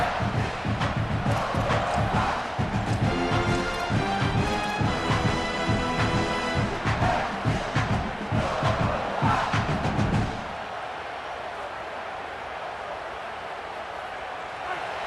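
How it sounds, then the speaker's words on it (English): A stadium crowd in a college football video game roars in a dense, sustained wall of noise with rhythmic chanting bursts, then drops abruptly to a quieter murmur near the end. "This crowd, full throat, spreading the eardrums and letting them know it's going to be a long day"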